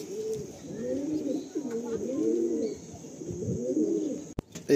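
Pigeons coo repeatedly at close range at a Kolkata pigeon market, a steady run of soft rolling calls with brief pauses, and a sharp click near the end.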